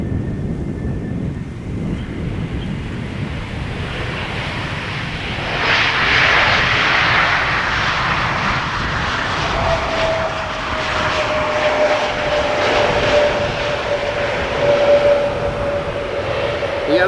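A Vueling passenger jet arriving from Barcelona at Amsterdam Schiphol rumbles loudly and continuously, its engine roar swelling midway and holding steady as it passes.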